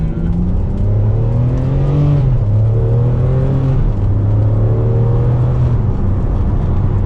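A Ferrari 599 V12 pulls hard at half throttle, revs climbing in repeated rising sweeps with shifts between them, loud and close from inside the car, with no talking.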